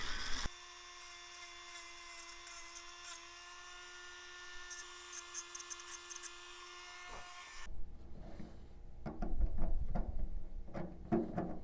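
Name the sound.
rotary tool deburring metal control rod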